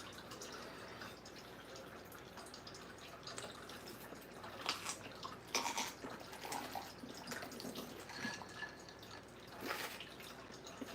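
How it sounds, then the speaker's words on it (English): A small faucet slowly dispensing water: a faint, continuous trickle with scattered drips, quiet and close. "My little faucet here takes forever, but it dispenses the best water."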